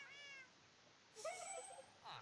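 A cat meows twice with tonal, harmonic cries, one early in the stretch and a louder one a bit later. It ends with a short breathy noise, heard fairly close in a quiet room.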